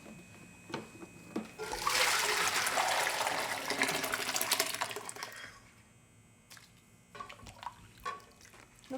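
Korean rice punch (sikhye) with floating rice grains is poured into a big pot as a loud, steady rush of liquid lasting about four seconds, followed by scattered drips and light clinks.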